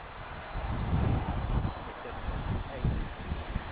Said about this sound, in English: A330neo is already taxiing as well,